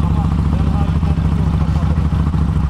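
A Kawasaki motorcycle engine runs steadily and loudly with a deep, throbbing exhaust rumble that holds constant throughout, with no clear rise in revs.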